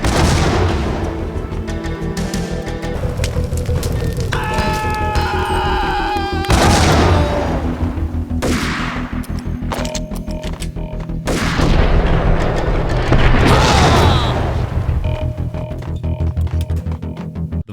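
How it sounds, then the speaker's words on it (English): Explosions and gunfire from the video game Max Payne, with loud booming blasts recurring among dense combat noise and a music bed, several heavy hits standing out. "and explosions booming and shaking the room."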